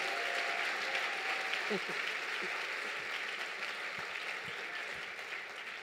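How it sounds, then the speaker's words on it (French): A church congregation at a service led by a pastor fills the room with sustained, dense applause that fades slowly toward the end. Scattered voices can be heard underneath the clapping. "acclame bien, ce n'est pas interdit de bien acclamer"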